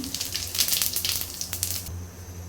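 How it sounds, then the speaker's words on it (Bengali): Bay leaves and cumin seeds dropped into hot oil on a stove hiss and sizzle loudly up close, the bright crackle fading out abruptly near the end. "এখন চুলায় তেল দিয়ে দিয়েছি, এর মধ্যে কয়েকটা সেরা তেজপাতা দিলাম, তারপরে দিলাম একটুখানি জিরে"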